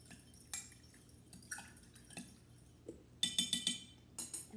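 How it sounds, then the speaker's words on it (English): Quiet clinks and taps of a whisk against a bowl of olive oil and water for pizza dough, coming in short irregular bursts with a few faster clusters, close by and fairly soft. "And you're just going to whisk this together."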